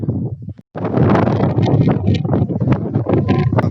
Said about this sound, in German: Ich hoffe, man kann mich durch die Windgeräusche verstehen.